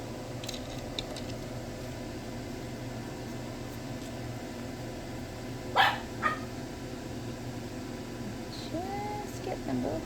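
Faint dogs bark a couple of times in the background of a quiet room where someone works on polymer clay jewelry, short sharp yaps that stand out against a low steady hum.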